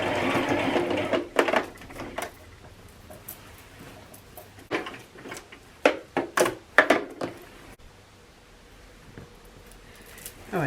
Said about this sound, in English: I'm going to go ahead and stitch the neck 1/4 of an inch all the way around